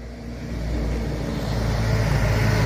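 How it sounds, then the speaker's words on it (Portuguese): A milk truck drives along a busy rural dirt road, a heavy low engine drone that swells slowly as it draws closer, steady and fairly loud, with no voices over it. "caminhão de leite"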